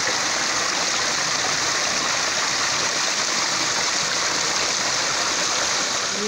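Water pours continuously in a steady, broadband rush, like a small waterfall splashing close by with no pauses, in the hills above Yalta.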